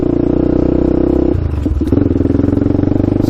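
A Honda 400ex quad's engine revs at low RPM, a loud, close, steady throbbing drone that dips briefly as the gear shifts, then picks back up with a rattly clatter.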